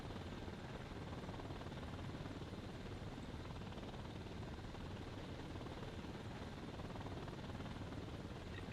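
Helicopter in the video game Thunder Helix, a steady continuous rotor and engine drone that stays even and moderately loud throughout, alone with no voices.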